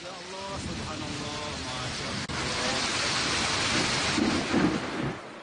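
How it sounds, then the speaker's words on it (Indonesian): Heavy rain pours steadily during a thunderstorm, with a dense hiss of falling water, a sharp crack near the middle and rumbling thunder swelling toward the end. "akibat hujan yang disertai badai"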